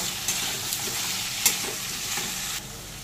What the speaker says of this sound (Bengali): এবার দিয়ে দেবো কিছুটা হলুদ গুঁড়ো আর একটু জিরের গুঁড়ো, আবার একটু নেড়ে মিশিয়ে নেব।